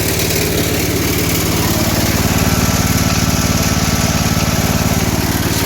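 A 1967 Gravely 430 walk-behind tractor's small single-cylinder engine runs steadily up close, a loud, even, fast putter with no pauses and no voices.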